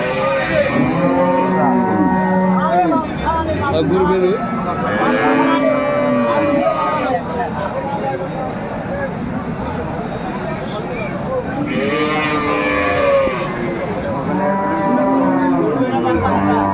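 Cows with calves at a village cattle market in Aftabganj, Dinajpur, give several loud, drawn-out moos in repeated bursts, with people talking around them.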